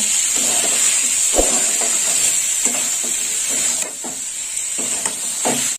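Soybean curry sautéing in a pan just after salt goes in, a steady bright sizzle and hiss with repeated scraping stir strokes close by.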